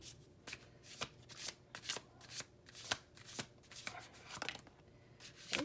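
Tarot cards being shuffled by hand, a steady run of crisp riffling bursts roughly twice a second, close and clear with no talking.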